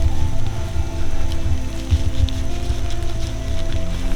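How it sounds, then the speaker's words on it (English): Steady outdoor rain falling near the water, a continuous patter with a low rumble of wind or handling noise underneath and no talking. "it's raining"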